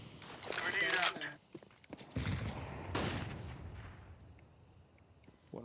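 Explosive blast from a grenade in Counter-Strike: Global Offensive, a sharp loud burst followed by a second boom and a decaying rumble, with gunfire-like cracks amid the action.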